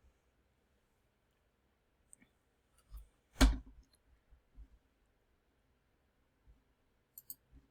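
Several sparse clicks of typing numbers into a Desmos online calculator, one sharper and louder near the middle, the rest faint and irregular with quiet gaps between.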